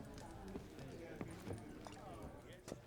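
Horse hooves clip-clopping in The Witcher 3 game, a handful of distinct hoof strikes spaced irregularly under steady background speech and ambience.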